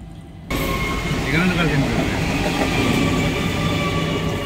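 A passenger train rolls into Chennai Egmore station with a steady, loud rumble of wheels on rails that continues throughout, with no talk heard.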